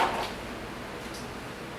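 A kitchen drawer slides open with a short scraping rumble right at the start, close and fairly loud, then quiet room tone follows.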